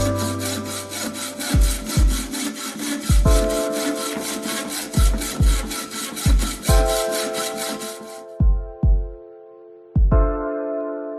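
Saw cutting through a car pedal on a classic Alfa Romeo, a steady rapid rasping of back-and-forth strokes with periodic low thumps, close and loud, then stopping and restarting near the end.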